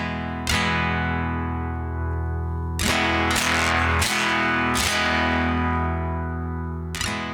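Cort Sunset Nylectric nylon-string hybrid guitar, amplified at full volume, plays a few ringing strummed chords and single struck notes in a flamenco style, each attack sustaining and fading, with no distortion.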